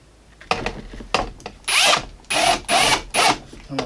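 A power drill drives screws into wood while a zig zag shelf is assembled, with several short whirring bursts and then longer loud runs separated by brief pauses.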